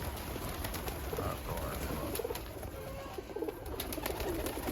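Pigeons of Iraqi breeds kept in Germany coo softly and repeatedly against a steady background hiss, with no talking.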